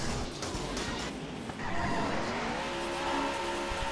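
Race car engine droning steadily while tires squeal through a drift in the video game Daytona USA, a continuous loud whine with rising skid tones and no talking.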